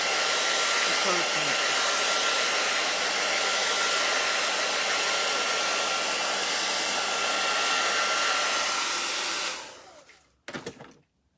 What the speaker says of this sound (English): A hot dryer dries it fast, guys.